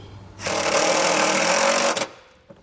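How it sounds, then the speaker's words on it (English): A power driver sends self-tapping screws into a battery disconnect solenoid mount on a 2017 GMC Canyon, one loud high whirring burst of about a second and a half, then a click and quiet. "We can grab our provided self-tapping screws and get that mounted."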